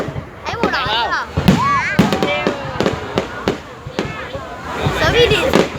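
Fireworks over Biên Hòa: loud, sharp bangs and crackling bursts spread across the clip, with whistling rising shells between explosions and people talking excitedly underneath.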